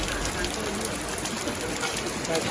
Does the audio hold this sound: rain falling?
yes